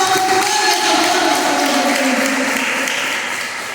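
A church congregation at an Assembly of God women's missions service applauds in a dense, steady wash of clapping that stays loud throughout and eases slightly toward the end, with a faint sustained tone underneath.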